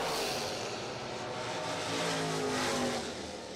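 Box door drag racing cars launch from the line at a Jegs Labor Day bracket race, a loud, continuous engine roar that swells and holds steady from a distance across the strip.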